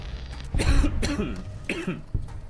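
Several harsh coughs and throat clearing close to a microphone from a gamer, three main bursts spaced apart with short pauses between them.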